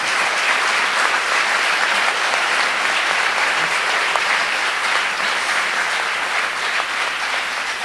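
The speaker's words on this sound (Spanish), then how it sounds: "Podemos darles un aplauso." A conference audience at a plenary session breaks into long, steady applause, a thick continuous roar of clapping hands that holds its level for nearly eight seconds without speech.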